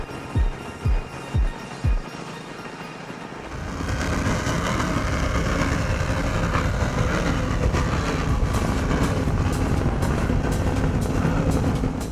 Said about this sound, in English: Oh, we just had to let that engine roar.